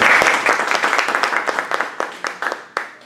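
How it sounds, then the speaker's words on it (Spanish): An audience applauds Professor Inés at the start of a training-course class, a dense burst of clapping that thins into scattered, separate claps as it fades. "pido un fuerte aplauso, por favor, para empezar la clase"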